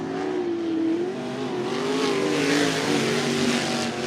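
Limited sprint cars racing at Cottage Grove Speedway, with loud, sustained engine roar as several cars drive through the turns together, their pitches wavering and overlapping, heard alone without talk.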